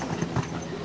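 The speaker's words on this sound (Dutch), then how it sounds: "Jesse Janssen reed al supersnel met dit paard." A show jumping horse's hooves thud on the arena footing during a 1.40 m international competition, a few soft, quick beats under a faint commentator's voice.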